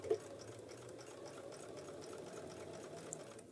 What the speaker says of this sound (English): My Bernina can handle anything like this very well.